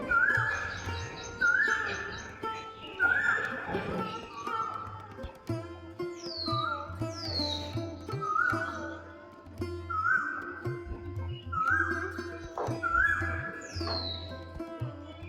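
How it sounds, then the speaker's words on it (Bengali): Rising, repeated calls of an Asian koel ring out at steady intervals over a faint background of murmuring and low outdoor noise. "কোকিলের ডাক। কেমন লাগছে শুনতে?"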